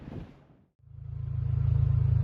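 A K24-swapped Honda Civic EG pulls away and accelerates, its four-cylinder engine note rising steadily and growing louder after a brief quiet moment, close and with no talk.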